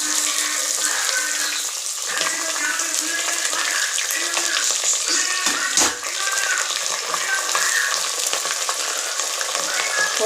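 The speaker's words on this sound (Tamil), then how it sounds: "இவங்களை போட்டு நல்லா வதக்கலாம். இப்போ வெங்காயத்தை போட்டுக்கலாம்." Crushed garlic and sliced onions fry in hot oil in a pan for a mushroom biryani, a steady loud sizzle throughout with a brief dip near the middle, no voices.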